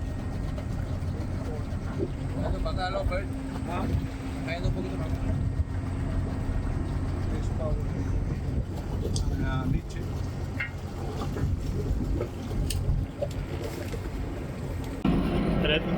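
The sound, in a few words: sailboat engine running in canal lock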